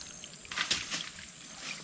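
Water drips from a DIY deep well pipe set up without a pressure pump: a couple of soft, close drops and a brief trickle over a quiet background.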